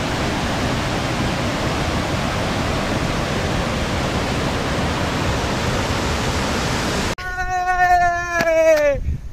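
Khandadhar waterfall in Sundargarh roars as a dense, steady broadband rush for about seven seconds, then cuts off abruptly and gives way to a tonal, wavering cry.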